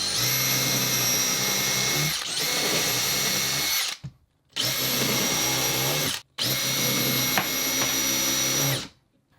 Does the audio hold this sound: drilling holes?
yes